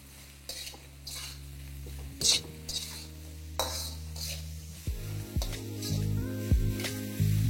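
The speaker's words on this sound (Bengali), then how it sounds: "তারপর স্বাদ মতো নুন দিয়ে এটাকে ভালো করে একবার ভেজে নিন।" Carrots, beans and cabbage are stir-fried with salt in a pan, a spatula scraping and clanking against the metal in irregular strokes over a soft, steady sizzle.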